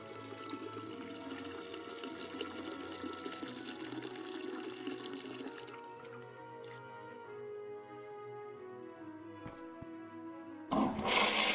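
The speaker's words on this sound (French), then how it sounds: "Je m'excuse pour le bruit, parce que c'est vraiment affreux le bruit de quand il va aux toilettes." Toilet flush in the Packing House video game, a loud rush of water swirling and draining for several seconds, then fading into a thinner trickle, with a sharp splash of water at the end.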